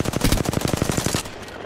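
A rapid automatic burst of about fifteen evenly spaced gunshots in the video game Apex Legends, loud and close, ending abruptly with a brief ringing tail.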